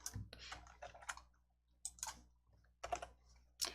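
Several quick bursts of computer keyboard key presses, with clustered clicks and short pauses between them, close and fairly quiet.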